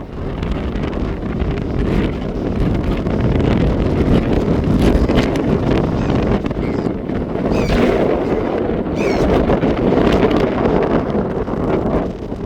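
Strong wind blowing across Port Owen Marina, a loud, constant roar of gusts rumbling against the microphone with faint rustling and harbour noise underneath and no talk.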